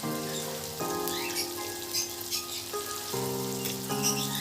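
Spice paste of Kashmiri chili powder, turmeric, ginger, cumin, coriander and poppy seed paste frying in a pan for potato cauliflower curry, a steady crackling sizzle with a faint tonal hum in the background.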